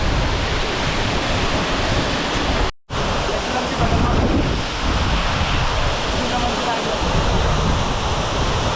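Bogatha waterfall running with increased flow after dark clouds roll in, a loud, steady broadband roar of falling water that fills the scene, broken by one brief dropout.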